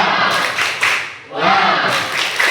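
Schoolchildren in a classroom clap together in a short burst of rhythmic group claps, loud and close, with a brief lull midway before the clapping resumes, voices mixed in.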